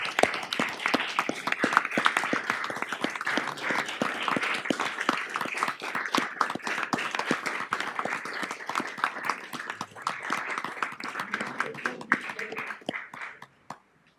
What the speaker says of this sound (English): All in favor, start clapping.